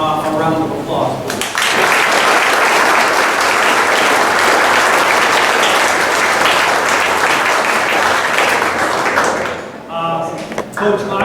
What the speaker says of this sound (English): it would be remiss for us not to offer Coach Kaufman a round of applause.